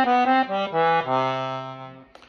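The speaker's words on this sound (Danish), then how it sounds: "For lige at starte med 16-fods stemmerne her, så vil I kunne høre, at de er i cassottoen." Low, mellow accordion 16-foot reeds in a cassotto tone chamber sustain a few held notes, muffled and soft-edged, the last chord fading out before a small click.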